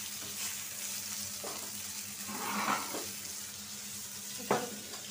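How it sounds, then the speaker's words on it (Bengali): Two pieces of fish frying hard in hot oil in a home kitchen, a soft continuous sizzle with a few brief stirring or scraping sounds, fairly quiet and close, with no one talking. "মাছটা দুটো পিস আমি ভাজা নিছি"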